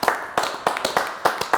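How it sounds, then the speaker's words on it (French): A few people clapping nearby in a sparse, uneven rhythm, each clap sharp and distinct rather than a full crowd's applause. "On les applaudit quand même"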